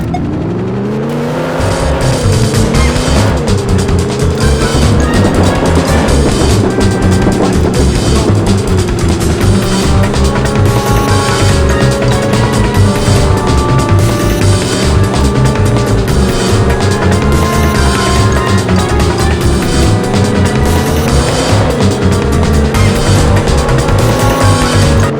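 Loud, continuous engine drone of a car racing in the PlayStation game 007 Racing, pitch rising and falling with gear changes and throttle, overlaid by tire squeal and skidding, with no talk.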